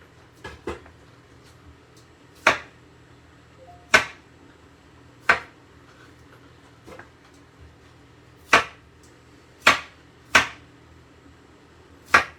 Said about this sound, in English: We're just kind of roughly chopping this cauliflower.